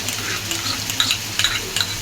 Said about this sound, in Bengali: দেখুন আমি আদা রসুনটা আগে ভেজে নিচ্ছি